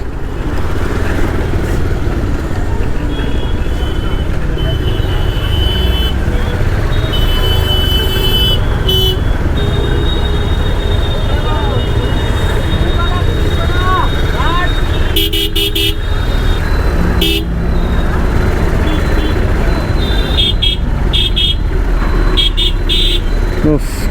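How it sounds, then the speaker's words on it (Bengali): Heavy traffic at the jammed Santipur rail gate: a dense, continuous roar of car and motorcycle engines with repeated horn blasts cutting in, loud and close, while a person talks over the din. "কি জ্যাম তোমরা দেখতে পাচ্ছ, অসহ্য করে জ্যাম।"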